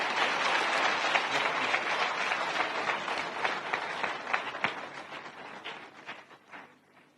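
An audience at an inauguration ceremony applauds President Macky Sall with dense, vigorous clapping that holds steady, then tapers into scattered claps before fading out.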